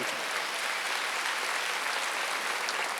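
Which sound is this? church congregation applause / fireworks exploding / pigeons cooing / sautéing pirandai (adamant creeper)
church congregation applause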